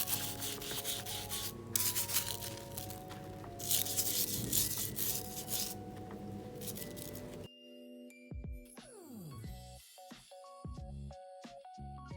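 A Barbie doll being scrubbed with a scrubber brush in antibacterial soapy water, giving steady wet rubbing and brushing strokes up close, later breaking into sparser scrapes and clicks.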